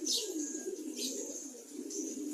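Female pigeons coo continuously in low, throaty warbles nearby, with a few brief higher bird calls overlapping.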